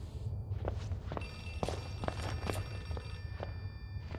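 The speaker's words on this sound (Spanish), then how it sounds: "¿Es eso un teléfono?" In the horror video game Outlast 2, a telephone bell rings faintly in the distance, its ring steady and continuous beneath a low background rumble, with footsteps and soft thuds sounding closer by.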